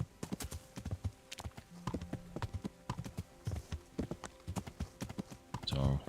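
A horse named Pebbles clip-clops along at a steady walking gait in the medieval game Kingdom Come: Deliverance, its hoofbeats close and rhythmic, with a short burst of other game noise near the end.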